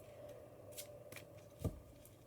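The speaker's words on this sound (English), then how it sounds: "I'm going to lay out all the cards, including the oracle cards" Tarot and oracle cards are shuffled and handled close by, giving soft papery riffles and brief slaps over a faint steady hum, with one louder snap as a card is set down.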